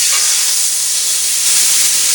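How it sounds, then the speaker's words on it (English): Beef short ribs sear in hot oil in a pan, giving a loud, steady, broadband sizzle and hiss that holds without a break from start to finish, with no voices over it. "You hear that sizzle? That's exactly what you want on this."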